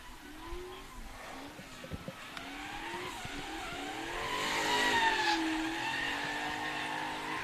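At a time attack and drift event on a race track, a car drifts with tires squealing, drawn-out pitched squeals rising over engine revving, moderately distant, with some background noise.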